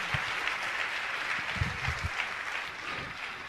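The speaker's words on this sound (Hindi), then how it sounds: "मैं चाहूंगा सभी पुण्याजकों के लिए जोरदार ताली बजाकर उनका सम्मान करें।" An audience at a Jain religious gathering breaks into steady, moderately faint applause that continues unbroken from start to finish, with no talking over it.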